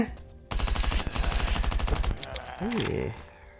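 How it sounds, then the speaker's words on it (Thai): Rapid light machine gun bursts fire in the survival shooter Last Island of Survival, a loud dense stream of shots lasting a couple of seconds, then tapering off as a voice speaks over the end. "อันนี้คือมันใช้ปืนกลเบาหรอ หรือว่าปืนอะไรเนี่ย โอ้โหแล้วกลเบาจริงด้วย"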